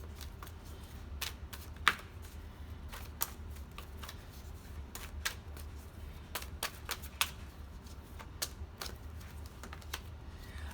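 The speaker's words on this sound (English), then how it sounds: "Let's grab a fortune reading card." Fortune reading cards being shuffled and drawn, a run of crisp, irregular flicks and snaps, some sharper than others, over a quiet low room hum, with no talking.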